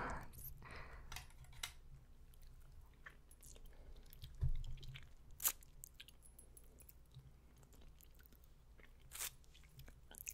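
Popin Cookin donut kit candy being eaten: faint, close crunching and chewing with occasional sharp crackly bites over a quiet, steady background hiss.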